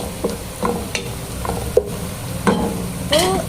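Food fries in oil in a pan, a continuous close sizzle broken by several scraping stirs and soft clatters of a spatula, with no voices.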